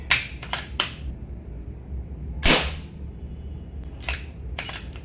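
Airsoft gun fired using an 8g aquarium CO2 cartridge: several sharp, snappy pops in an irregular series, with one louder, fuller crack in the middle, close by and without talk.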